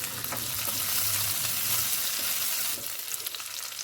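Raisins and nuts frying in a pan for caramel sheer khurma, giving a steady close sizzle with occasional scraping stir sounds, softening slightly near the end.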